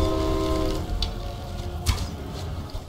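A steam train whistle in a Half-Life horror mod, a long loud tonal blast that fades out over rumbling, dense background noise.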